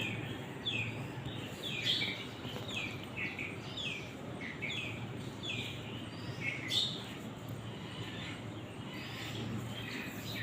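Faint, repeated bird chirps over a steady low background hum, coming in short bursts at an even pace.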